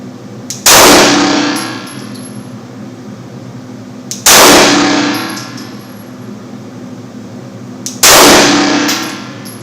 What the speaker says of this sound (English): Same thing, that was Glock 19, 5 shots.